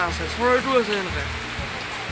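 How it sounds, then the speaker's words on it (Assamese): Rainwater runs and drips steadily off a tin roof at a rural Assamese home after weeks of continuous monsoon rain, a constant wash of water beneath someone talking nearby. "পানী পৰি আছে এইফালৰ পৰা এনেকৈ আমাৰ টিঙৰ পৰা"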